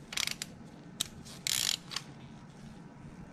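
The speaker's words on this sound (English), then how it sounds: "Now we're going to use the socket wrench to tighten them." A socket wrench ratchets as car spark plugs are tightened, giving short bursts of close metallic clicking separated by pauses, with no talking.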